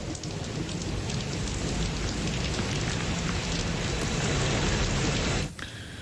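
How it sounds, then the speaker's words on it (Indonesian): Heavy rain pouring in Jakarta, a dense continuous hiss of drops striking surfaces up close, steady and loud before cutting off abruptly near the end. "Hujan yang mengguyur Jakarta seharian ini membuat sejumlah pintu air di Jakarta berada dalam status siaga 2."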